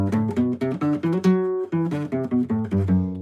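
A seven-string guitar plays a quick run of single notes climbing a scale without sharps and then coming back down, clear and up close, with no talking.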